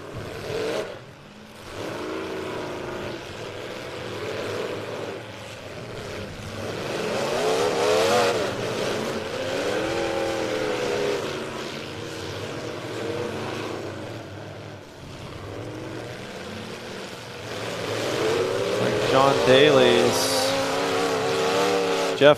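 Race cars circle a track at a King of Ohio event, engines droning and revving in long sweeps that swell and fade as cars pass, with commentators talking over the steady roar.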